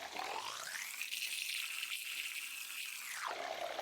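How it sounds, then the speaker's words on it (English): Water runs and splashes while a makeup brush is rinsed, a steady close hiss that swells for about two seconds and then cuts off. "there is a little bit of water that splashes out"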